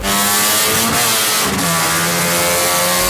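A rebuilt rotary engine in a Kei truck, formerly blown, revs loudly and close by, with a buzzing, choppy idle and rising and falling pitch across the short burst.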